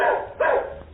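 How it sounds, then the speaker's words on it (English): A St Bernard dog gives a short, deep bark followed by a second rougher yelp, close and clear, lasting about a second with no talking over it. "Daisy, it's a dog."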